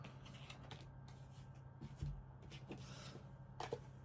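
Quiet, close-up riffling and soft slapping of a tarot card deck being shuffled, in short irregular bursts with brief pauses.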